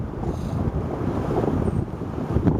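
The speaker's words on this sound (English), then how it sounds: "it's a windy day" Wind on a windy day during a bike ride, steadily buffeting the microphone with a low, continuous rumble and no voices.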